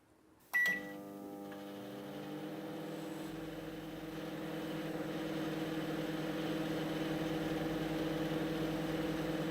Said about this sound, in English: Yes, microwave.